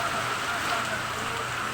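Heavy rain pours steadily during a long afternoon downpour in hilly country, a dense, continuous hiss with no breaks and no one speaking.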